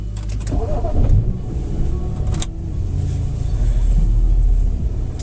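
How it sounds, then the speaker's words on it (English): BMW 335i E92 started with the key and foot on the brake: a short starter whir and catch in the first second, then a steady low idle rumble continuing to the end, with no talk. "press on the brake, start the vehicle."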